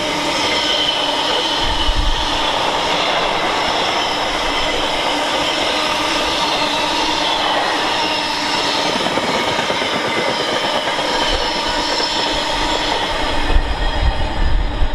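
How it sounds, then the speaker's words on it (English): A DB Cargo class 66 locomotive hauls a freight service from Southampton past Tamworth on the West Coast main line, a loud, sustained rumble of wagons with steady wheel noise and squeal throughout, nobody talking. "66-200. DB cargo freight service from Southampton to Masborough."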